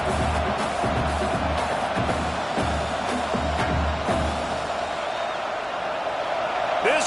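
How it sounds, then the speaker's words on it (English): A college football stadium crowd roars in a broad, sustained din with rhythmic swells, while a commentator talks over it. "This crowd bringing the energy and noise early."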